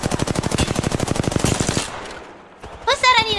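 Rapid automatic gunfire in the Apex Legends video game, a loud sustained burst of evenly spaced shots lasting nearly two seconds, then a brief lull before a voice speaks.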